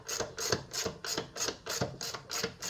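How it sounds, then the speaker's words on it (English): A ratchet wrench tightens a bolt on a mini bike, clicking in quick, regular bursts of about eight strokes, close and clear with no talk. "just tightening up this bolt here"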